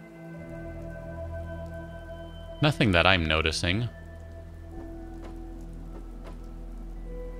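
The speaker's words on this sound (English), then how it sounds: "It's interesting that it's still raining and I'm standing under a roof" Steady rainfall in Fallout 4 gives a constant hiss of falling drops throughout, with someone briefly speaking over it partway through.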